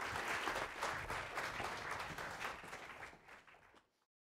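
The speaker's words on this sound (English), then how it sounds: "please give a round of applause to Professor Vanderhelm" Theatre audience applauding at an improv comedy show in Edmonton, a dense steady wash of clapping that gradually thins and fades out toward the end.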